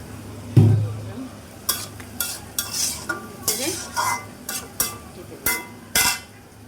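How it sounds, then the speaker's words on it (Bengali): Vegetables stirred in a hot pan, sizzling steadily with repeated scraping strokes of a utensil, close and moderately loud. "নেড়ে চেড়ে ঢেকে দিব,"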